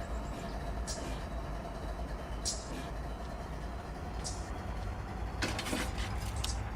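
A freight train in the Run 8 simulator game eases to a stop in a rail yard, giving a low steady rumble with a few brief brighter squeals and clinks.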